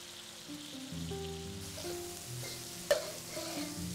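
Mushrooms sear in fat in a pan as they are pressed down, giving a soft steady sizzle, close and quiet, with one brief sharp tap partway through.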